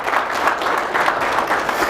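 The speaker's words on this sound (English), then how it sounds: "A round of applause for our Honorable Minister" An audience at a young farmers conference gives the Honorable Minister steady, dense applause that holds evenly for the whole stretch, with no speech over it.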